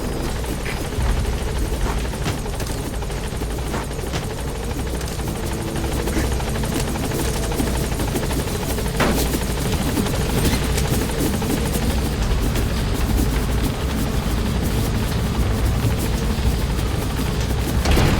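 A helicopter in Metal Gear Solid 5: The Phantom Pain lifts off, its loud, continuous rotor roar and engine whine filling the scene up close, steady throughout with occasional sharp thumps, and no one speaking.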